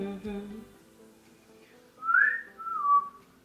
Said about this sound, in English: Do you guys like my whistling?